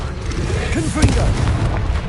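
A Confringo blasting spell detonates in Hogwarts Legacy with a single deep boom, alone and close, ringing briefly over a low background rumble.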